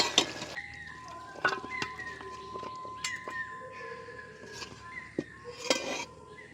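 Fish head curry of catla, cooked down thick and red, being tipped out of a pan with clinks and scrapes of metal utensil against cookware, a few sharp knocks over a steady background hum.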